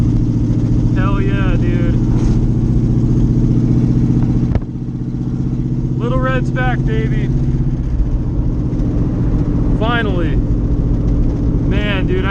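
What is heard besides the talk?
C4 Corvette engine revving through a gear shift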